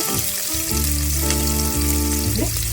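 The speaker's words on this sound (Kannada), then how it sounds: "ಇನ್ನು ಚೆನ್ನಾಗಿ ಫ್ರೈ ಮಾಡ್ಕೊಳ್ಳೋಣ" Chopped onions fry in a pan for a vegetable soya chunks pulao, with a continuous close sizzle running beneath melodic background music.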